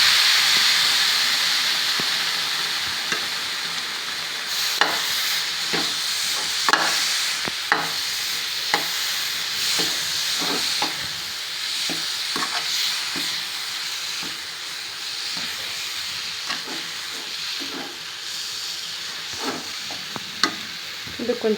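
Rava, sugar, coconut and milk are stirred together in a pan for rava ladoo, making a continuous wet hiss and sizzle. Repeated scraping knocks from the spoon punctuate it, with no talking.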